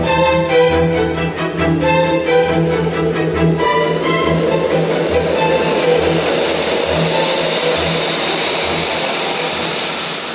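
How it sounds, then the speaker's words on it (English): A small jet engine roars steadily and loudly, its high whine climbing as it spools up and then holding at a sustained scream. "even a tiny jet engine like this sucks in a vast amount of air to keep it going"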